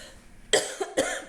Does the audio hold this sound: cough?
yes